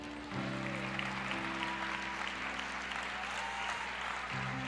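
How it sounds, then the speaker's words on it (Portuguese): A church congregation claps steadily and warmly during a service, the applause sustained throughout, with a low musical drone and faint voices underneath. "aplauda ao Senhor"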